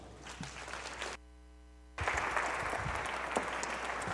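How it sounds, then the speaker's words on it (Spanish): An audience applauds to welcome an actress at a dramatization staged for International Archives Day by the judicial branch of the State of México. Loud, dense clapping briefly cuts out to near silence, then resumes fuller and continues steadily. "Recibámosla con un fuerte aplauso."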